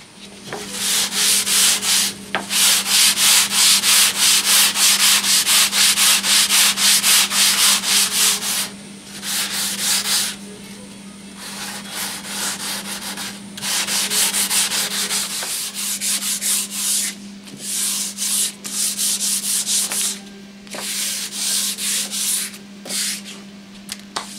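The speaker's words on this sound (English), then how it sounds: "Got to do some hand sanding at this point." A wooden display shelf is hand sanded with sandpaper in a workshop, giving steady close rasping strokes in long bursts with brief pauses, loud and alone over a low constant hum.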